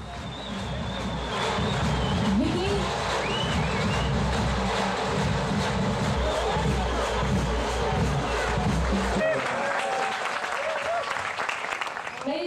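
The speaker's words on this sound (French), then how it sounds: "Mesdames et messieurs, un tonnerre d'applaudissements." A large crowd applauds a women's championship winner at a competition event, loud continuous clapping and cheering that fills the space for about nine seconds before tapering off.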